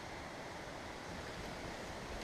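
A small stream flows across a trail on the John Muir Trail, a quiet, steady rushing wash of water that stays even throughout with no talking.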